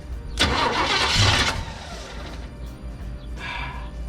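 An old Chevelle, long stored in a Texas barn with a doubtful fuel pump, cranks on the starter for about a second, then cranks briefly again without catching. The sound is close and loud.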